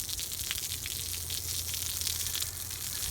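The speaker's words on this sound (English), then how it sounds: "We'll go to my garden hose. There's the hose. Let's give it a quick squirt." A garden hose gives a short spray of water, a steady close hiss and rush held evenly for a few seconds with no voices.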